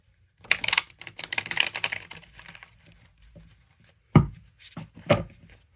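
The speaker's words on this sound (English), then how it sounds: "it doesn't give me the best riffle shuffle" Matte-finish tarot cards being riffle shuffled at close range, giving quick papery bursts of fluttering clicks followed by a couple of sharp taps as the deck is squared.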